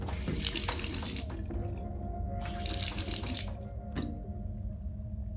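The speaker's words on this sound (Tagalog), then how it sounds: "Maluwag na naman. Ba ang pagkakasara ko ng gripo sa banyo?" A loosely closed bathroom faucet runs at night, water splashing in irregular bursts that rise and fall, with drips between the gushes, close and alone in a quiet room.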